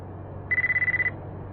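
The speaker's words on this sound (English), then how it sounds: "Oh, I'm getting a phone call." A telephone rings with an incoming call: a single burst of about ten quick, bright electronic beeps, clear and fairly loud over a low steady hum, then silence.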